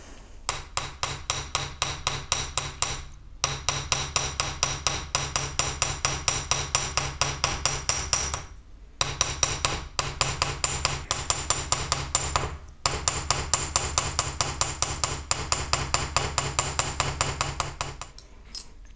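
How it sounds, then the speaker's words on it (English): A ball peen hammer strikes the edges of metal leaf pieces on a bench block in rapid, steady ringing taps, with a few brief pauses between runs, close and loud with no talking. "I'm just going to be hammering the outside edges"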